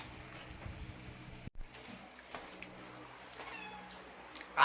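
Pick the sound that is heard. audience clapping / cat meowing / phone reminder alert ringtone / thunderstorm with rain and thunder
cat meowing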